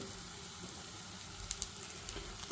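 Bitter gourd frying in hot oil gives a soft, steady sizzle with a few faint crackles and pops.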